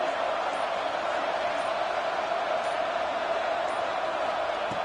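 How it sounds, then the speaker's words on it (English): The home crowd at an Oklahoma State vs Iowa State football game cheers in a constant, loud roar that fills the stadium evenly throughout. "this home crowd is fired up and ready to make a difference"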